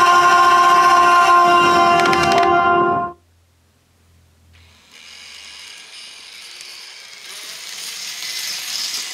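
An N gauge model Shinkansen, a short three-car set on a layout fitted with a level crossing, runs loud and close with a dense mechanical whir, then drops to near silence and returns as a fainter, steadier rolling hiss.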